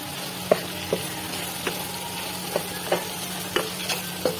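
Ground masala frying in a pan for restaurant-style mutton curry, a steady low sizzle broken by about ten soft stirring scrapes at an even pace, close by and with no voices.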